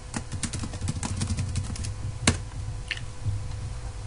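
Someone types on a computer keyboard, a quick burst of close, crisp key clicks followed by a louder single keystroke and a few sparse taps, with no speech.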